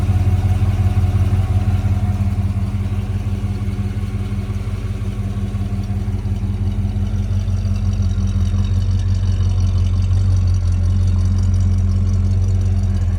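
Restored 1955 Chevrolet Bel Air Nomad wagon with a period-correct 283 V8, idling loud and close with a steady, even rumble that holds throughout, no talking.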